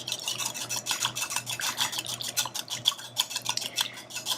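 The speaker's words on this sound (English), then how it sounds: "And then just whisk this together like so." A whisk beating a small bowl of salad dressing with fresh basil and salt, a quick rhythmic metallic scraping and ticking that keeps on, close and moderately loud, with no voices.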